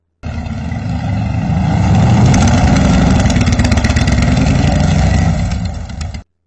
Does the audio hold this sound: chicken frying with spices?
no